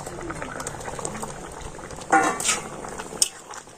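Potato curry with boiled potatoes bubbling in a pot as the lid comes off, soft continuous bubbling with a couple of sharp clinks and a brief rustle, a voice faintly audible nearby.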